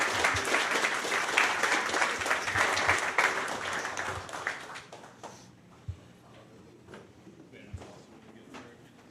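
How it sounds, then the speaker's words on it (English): Audience applause for Repair Cafe volunteers at an Atlanta right-to-repair tour stop: dense, loud clapping for about four seconds that thins into scattered claps, a few thumps and soft room noise. "how about a round of applause for the Repair Cafe folks?"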